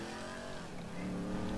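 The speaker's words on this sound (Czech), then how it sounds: "Teď slyšíš ten motor?" Car engine in Grand Theft Auto V Online, a steady droning motor hum held at an even level for under two seconds, with no speech over it.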